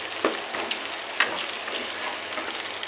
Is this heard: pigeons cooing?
no